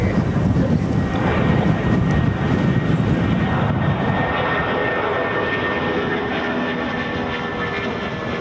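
A Thomson Boeing 787 jet landing on runway 09 at Bristol, heard as a loud, broad engine roar that slowly fades and softens over several seconds, with no talk.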